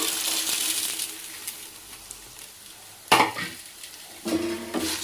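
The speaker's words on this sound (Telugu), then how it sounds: "సో వీటిని బాగా కలబెట్టాలన్నమాట" A spoon scrapes and stirs flattened rice poha in a frying pan, with soft sizzling and a few louder metallic clinks and scrapes against the pan, close and alone with no talking.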